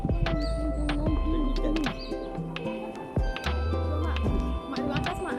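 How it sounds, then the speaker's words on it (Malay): Pigeons or doves coo from overhead at a Sarawak cultural village, with chirps and tweets in between, while people talk nearby and move about. "Atas ada burung."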